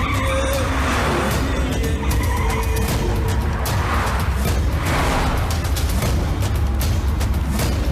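A car driven fast in a movie chase, loud continuous engine roar with tire skidding and squealing throughout, no talk.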